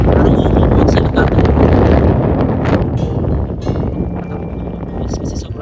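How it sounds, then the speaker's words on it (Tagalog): Strong, cold wind at Smoky Lake in Alberta buffets the microphone with loud, continuous low rumbling gusts that ease slightly toward the end. "kasi sobrang lakas ng hangin"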